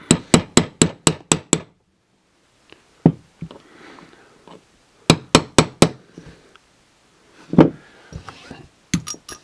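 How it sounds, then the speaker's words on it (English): Repeated hammering of a part from a vintage Tandy Radio Shack computer truck against a table: two bursts of six to eight sharp, loud knocks in quick rhythm, with a few scattered single thumps and rattles between them. "I'm hammering it into the table."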